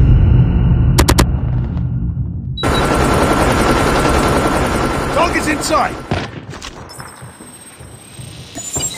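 Heavy automatic gunfire and booms fill a Call of Duty match, with a stealth chopper overhead amid the chaotic battle noise and game voice announcements, loud throughout and thinning out toward the end.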